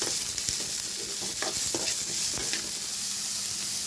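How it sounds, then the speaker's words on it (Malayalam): Vegetables, ginger, cumin and curry leaves frying in a pan, giving a steady loud sizzle and hiss throughout, with a few soft scraping thuds as the mixture is stirred. "ഇത് നന്നായിട്ട് മിക്സ് ചെയ്ത് കൊടുക്കുക."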